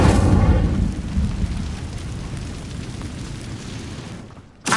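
Incendio fire spell cast in the video game Hogwarts Legacy, a loud rumbling burst of flame that fades into a sustained crackling roar, with a short sharp hit near the end.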